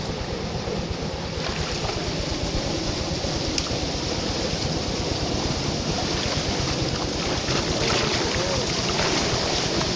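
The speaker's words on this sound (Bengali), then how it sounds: "বড় বোট যাচ্ছে মনে হয় তাই না ফিশিং বোট যাচ্ছে" A fishing boat's engine drones steadily close by on a river in the Sundarbans, its low rhythmic chugging mixed with wind buffeting and water wash throughout.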